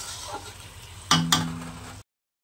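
Water poured into a pan of nota fish curry (chochchori) cooking on the stove, a soft simmering sizzle followed by two sharp bursts of hissing spatter, then sudden silence.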